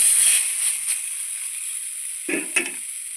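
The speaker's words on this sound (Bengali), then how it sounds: "তেল কম দিয়ে আমি আবারও দুটো ছেড়ে দিচ্ছি এই বেগুন সুন্দরীটা বানানোর জন্য" Eggplant slices fry in a little oil for begun sundori: a high, steady sizzle, louder at first, then quieter, with two short bursts of spattering near the end. Close by, no voices.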